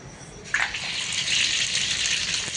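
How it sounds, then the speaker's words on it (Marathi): Cumin and mustard seeds dropped into hot oil, a steady hissing sizzle that jumps suddenly louder and then holds, close and alone. "तेल गरम झालेलं आहे आणि सतीश दादा जिरं मोहरी टाकून घेत आहे"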